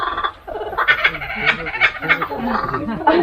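A wild Australian bird named JJ, once kept in care, calls close by in a run of loud, rough, throaty notes that repeat almost without pause, with harsh bursts standing above a busy background.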